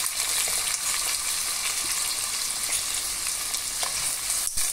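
Carrot pieces and potatoes fry in a pan, giving a continuous close crackling sizzle with faint stirring scrapes throughout, no voices.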